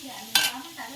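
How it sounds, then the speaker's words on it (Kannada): Onions fry in oil in a pan with a steady sizzle, broken by one sharp scraping stir partway through, close by and with no voices. "ಈರುಳ್ಳಿ ಹಾಕಾದ್ಮೇಲೆ ಈರುಳ್ಳಿ ಒಂದು ಸ್ವಲ್ಪ ಬ್ರೌನ್ ಆಗಬೇಕು, ಅಲ್ಲಿವರೆಗೂ ಫ್ರೈ ಮಾಡ್ಕೊಳ್ಳಿ."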